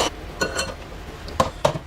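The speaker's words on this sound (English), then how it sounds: "get my little sieve and add my baking powder. And we'll tap that in and mix." A small metal sieve being tapped to shake baking powder into a cake batter bowl, giving a few light clinks with two sharper taps near the end.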